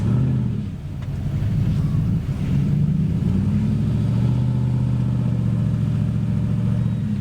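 A 2014 Chevy Silverado 1500 labors through soft ground off-road, its engine droning low and steady with surging revs as it pushes on, fairly close and continuous.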